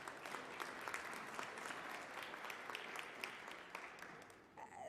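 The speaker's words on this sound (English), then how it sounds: "we can give her a round of applause as well" Audience applause at an ILO social protection event, a steady wash of many hands clapping at moderate distance throughout, thinning out near the end.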